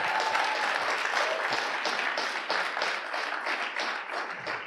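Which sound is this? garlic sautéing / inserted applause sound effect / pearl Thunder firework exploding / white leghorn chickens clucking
inserted applause sound effect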